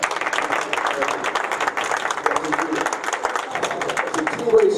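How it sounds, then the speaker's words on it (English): A town hall meeting audience at an Elks Lodge applauds with dense, continuous clapping at moderate loudness throughout. "I'd like everybody on this side of the table to give you a round of applause"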